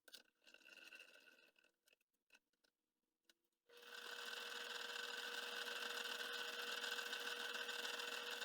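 Metal lathe turning a brass potato masher, a steady loud machining whir that starts abruptly midway after a few scattered clicks and knocks, continuing evenly to the end with no talk.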